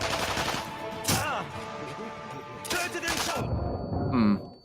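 Gunfire in the Sniper Elite V2 video game on Xbox, two loud sharp bursts of shots amid game music and ambience, followed by a softer metallic click near the end.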